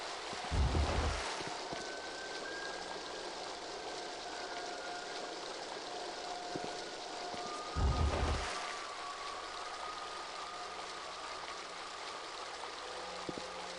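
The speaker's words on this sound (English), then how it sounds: "Water is pouring through that hole at a tremendous rate." Water from The Dig pours through a hole in a steady rushing wash, with two louder low surges breaking through the constant flow.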